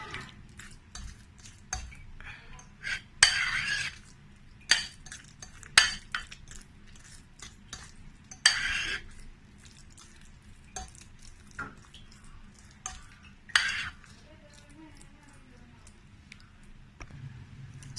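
A spoon stirs creamy salad dressing in a bowl, with repeated scraping and clinking against the sides in an uneven rhythm and short louder knocks now and then, close up and without talk.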